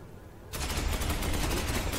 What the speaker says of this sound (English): A literal hurricane of bolter fire there.